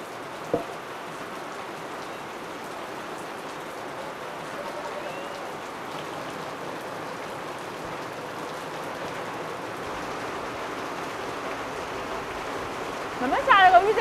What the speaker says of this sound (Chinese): 雨下进来了，好大的雨啊！